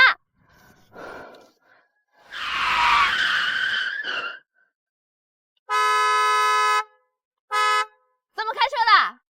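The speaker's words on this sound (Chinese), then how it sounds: "这些不许鸣笛，你不知道吗？" A car's tires skid in a loud screeching burst, followed by two blaring horn honks, one long and one short, then a brief sharp vocal outburst.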